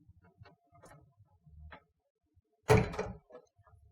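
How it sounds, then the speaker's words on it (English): A hotel room door opened during housekeeping, a sharp latch click and clatter after several faint ticking knocks, close and brief against a quiet room. "When you open the door"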